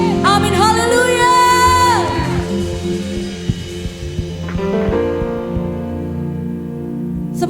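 A church congregation at a Sunday worship service applauding and cheering, with loud crowd shouts and whoops fading into a steady mass of applause and voices that fills the room.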